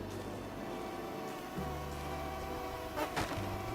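Mosquitoes buzz in the video game Don't Starve while the player sails a boat, a steady low droning hum that holds throughout, thickening into a fuller buzz midway and swelling briefly near the end, with no voices.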